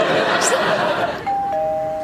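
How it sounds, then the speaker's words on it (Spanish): Doorbell at Stan Lee's front door, rung once: a clear two-tone chime that rings out and lingers over a steady outdoor background. "acabas de llamar al timbre de Stan Lee"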